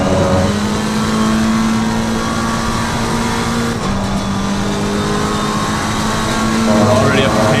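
A Ford Mustang race car in Assetto Corsa Competizione drives with a steady engine drone that shifts pitch with gear changes and rises near the end, while someone talks over it.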